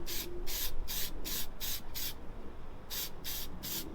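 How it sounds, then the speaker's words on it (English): Touch-up paint sprays onto the bottom of a roof gutter bracket in about nine short hissing bursts, steady and close, with a brief gap before the last three and no talking. "we just spray this bottom section right here"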